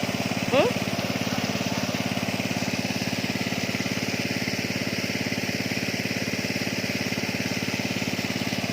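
An engine-driven water pump runs in a field, its steady mid-pitched mechanical drone holding unchanged throughout with a brief faint squeak near the start.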